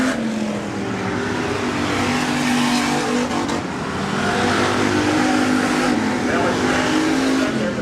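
Hobby stock race cars on a dirt speedway coming off turns three and four in a heat race, engines roaring loudly and steadily with rising and falling revs, under a race announcer's commentary.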